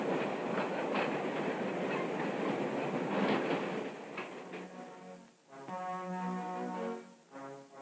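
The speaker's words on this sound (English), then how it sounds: "The train pulled into the station on time." A train pulls into a station with a steady rumbling roll and clatter that eases off, followed by a long sustained horn-like tone with a couple of short breaks, heard at a moderate distance with no voices.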